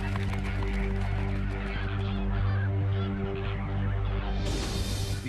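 A tightening flock of flamingos calls in panic under threat from a hunting eagle, a dense, continuous honking clamor that stays loud and unbroken throughout, with a brighter burst of noise near the end.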